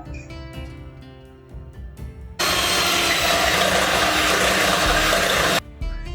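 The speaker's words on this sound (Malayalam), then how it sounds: "സിക്സ് എഗ്സ് എടുക്കുന്നുണ്ട്. ഇത് നല്ലതുപോലെ നമുക്ക് ബീറ്റ് ചെയ്തെടുക്കാം." An electric mixer beats six eggs for a chocolate cake, starting with a loud, steady whir after a few clinks and handling knocks, running for about three seconds before cutting off.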